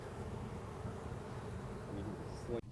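Honeybees on a single hive frame from a Florida colony make a dense, steady drone, loud and close throughout with no pauses, ending in a brief handling thump.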